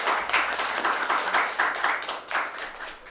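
Steady clapping from a symposium audience welcoming a speaker, many hands at moderate distance with a rhythmic, pulsing texture that continues throughout without speech.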